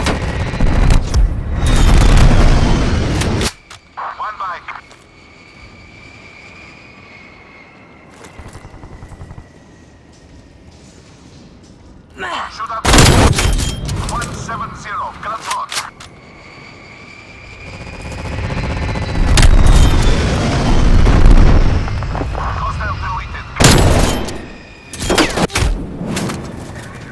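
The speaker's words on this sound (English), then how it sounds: "Enemy napalm strike incoming." Video game napalm strike sets off several heavy, rumbling explosion bursts in between quieter stretches, with aircraft and gunfire-like noise around them.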